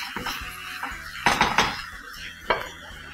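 A spoon clanks and scrapes against a pot while freekeh is stirred together with vegetables, a close series of irregular metallic knocks and rattles with a few sharper louder hits, no talking.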